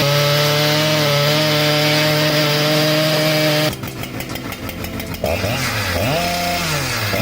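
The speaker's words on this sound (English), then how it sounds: "STIHLMS 881 and Husqvarna 3120 XP are two powerful chainsaws designed for professional logging work." Big professional logging chainsaws, a Stihl MS 881 and a Husqvarna 3120 XP, scream at high revs and then bite into wood. The harsh, buzzing cut bogs down and rises again in loud bursts, with no talk over it.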